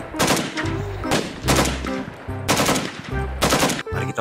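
A toy AK-47 assault rifle fires loud, rapid electronic bursts, four volleys in a steady rhythm, close by.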